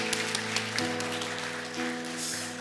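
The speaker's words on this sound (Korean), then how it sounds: "우리 한번 축복의 박수 드리겠습니다" Church congregation applauding at a Sunday worship service, sustained clapping under a held organ or keyboard chord, steady and moderately loud throughout.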